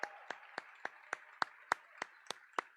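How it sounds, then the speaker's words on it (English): Slow, evenly spaced hand claps, about ten in a row, sound sparse and distinct rather than like a full crowd, at a university athletics awards event called The Sammys. "deserve a huge round of applause"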